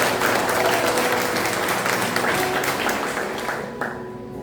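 Congregation applause during an evening Sunday church service, a loud, crowded clatter of hands with a faint tonal hum beneath, thinning out toward the end.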